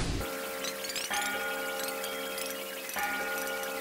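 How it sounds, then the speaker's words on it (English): The Twilight Bell in A Hat in Time rings in sustained metallic chimes, struck twice with a long shimmering decay after each strike, loud and clear with no talk over it. "The Twilight Bell!"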